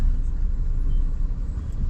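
Road traffic on a Sunday near a temple in Pune: a low, continuous engine rumble of passing cars and heavier vehicles, close and steady with no voices.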